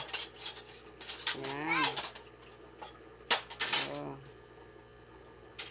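Dishes and spoons clink and clatter while being washed, plates turned over with ringing scrapes, in irregular bursts close by, with brief talk mixed in.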